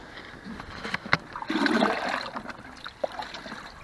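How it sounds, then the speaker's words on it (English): Water pours from an old paint container onto seedlings in a vegetable garden, giving a short splashing gush that rises and fades amid scattered drips and trickles, close and moderately loud. "Time to give them some water."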